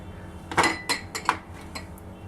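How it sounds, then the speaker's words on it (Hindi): Dried coconut goes into a pan while making gud papdi, with a few sharp metallic clinks of a spoon against the pan and softer scraping taps, close and brief. "ड्राई कोकोनट अब हम इसमें डाल देंगे।"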